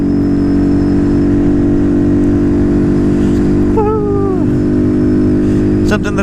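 A Honda Grom motorcycle running at full throttle and topped out, a loud steady buzzing engine drone with heavy wind rush, heard up close from the rider's position, with a brief pitch dip before it returns to a constant whine.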